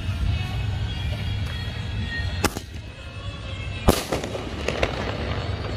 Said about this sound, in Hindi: ये पता है आपको स्पाइडरमैन वाला स्काई शॉट है, जिसमें पांच आए थे उसमें से 5-in-1 में से ये एक है